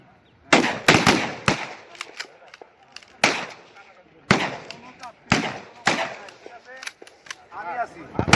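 Rifle firing practice by village defence trainees at a basic training range: a rapid series of sharp, loud cracks in irregular clusters, mixed with shouted commands and voices.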